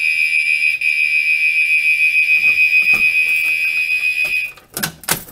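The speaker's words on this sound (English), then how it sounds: "it will just sound the horn strobes for a little bit" A Notifier AFP-200 fire alarm panel's horn strobes blare during a walk test, a loud continuous high electronic tone that cuts off after about four seconds, followed by clicks and handling noise.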